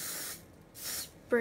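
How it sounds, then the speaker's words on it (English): Two quick hissing bursts from a spray bottle spraying hair, close by, separated by a short pause, followed by the start of a voice. "I'm gonna re-spray"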